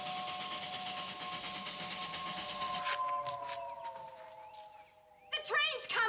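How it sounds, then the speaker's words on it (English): An approaching steam-era train sounds a long sustained whistle that slowly drops in pitch, over a rumbling engine that fades before a burst of clattering noise at the end. "The train's coming."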